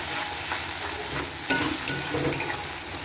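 Spice paste fries in a pan after a splash of water, producing a close, steady sizzle with intermittent scraping and stirring bumps from a utensil, and no voices.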